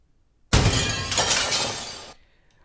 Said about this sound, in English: let's just have some glass sounds coming in here and happening